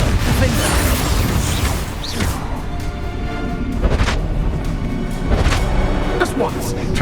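Confringo, a fiery blast spell in the video game Hogwarts Legacy, goes off as a dense, rumbling explosion with booming hits spread across several seconds, loud and continuous, with voices speaking over it.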